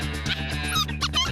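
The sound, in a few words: coyote pup distress sound from a Foxpro predator call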